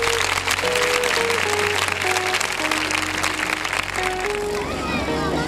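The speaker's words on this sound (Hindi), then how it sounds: "उनके लिए जोरदार तालियां बजाएंगे." Loud, sustained applause from a church congregation welcoming a woman guest during a children's chapel service, with a keyboard or organ playing steady notes underneath.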